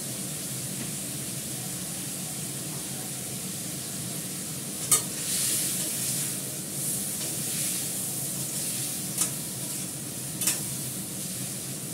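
Cumin and turmeric fry in a pan while being stirred, giving a steady close sizzle with soft scraping and a few sharp clicks from the utensil, and no voices.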